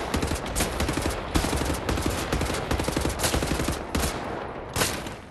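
Rapid gunfire from the video game Wolfenstein rattles almost without a break, bursts of automatic fire and sharp shots piling over each other at a moderate level, with no clear talk.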